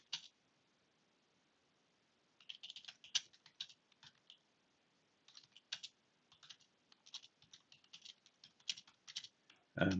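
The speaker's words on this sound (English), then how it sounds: "Just going to type something out." Close, quiet typing on a computer keyboard in irregular bursts of clicks and key taps separated by short pauses, with no talking.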